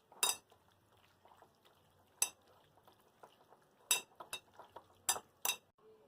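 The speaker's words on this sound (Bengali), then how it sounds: "গোলমরিচের গুঁড়ো অল্প করে, এক চামচ কর্নফ্লাওয়ার দিয়ে ভালো করে মাখিয়ে নেব।" Chicken is mixed by hand in a bowl with ground pepper and a spoonful of cornflour, giving soft wet squishing and a few sharp clinks of a spoon or bowl rim spaced out over several seconds.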